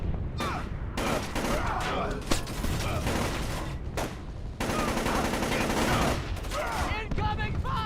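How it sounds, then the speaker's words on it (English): Splinter Cell: Chaos Theory stealth game gunfire, rapid bursts of automatic fire and repeated shots in loud clusters with short gaps, mixed with game effects and shouted voices. "Incoming fire!"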